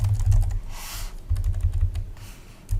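Code typed on a computer keyboard, a close run of quick, uneven key clicks in bursts with brief pauses, fairly clear and unaccompanied by speech.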